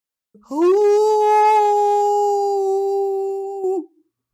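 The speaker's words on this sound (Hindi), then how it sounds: "आदत से मजबूर लोमड़ी उस रात चांद को देखकर हाउल करने लगता है।" A fox howls at the full moon: one long, sustained, tonal howl lasting about three seconds, loud and close, rising briefly at the start and holding steady before it cuts off, alone with nothing else audible.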